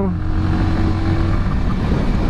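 Yamaha XSR155 motorcycle engine revving up hard into high RPM, a loud, steady, continuous engine roar close by with a rising tone and no pauses.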